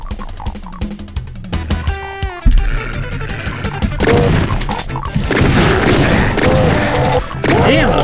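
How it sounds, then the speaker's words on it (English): Enemy shotgun blasts and crashing combat noise in the video game DOOM, heavy booming impacts and roars layered over a dense, loud game soundscape with someone speaking. "those shotgun guys are good shots at their shotgun shots"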